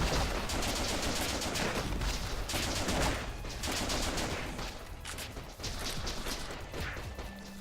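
Dense, continuous gunfire from the video game Shots Fired: Overkill, rapid overlapping shots and crashes running loud and unbroken through the whole stretch with no talk over it.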